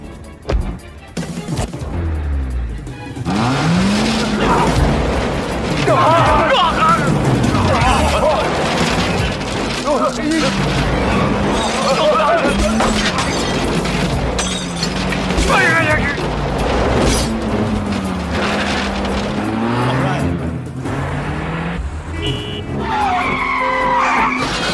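Car chase scene from a film, with a car getting stuck in sand: loud, continuous engine revving, skidding and booming impacts layered with film music and shouted voices throughout.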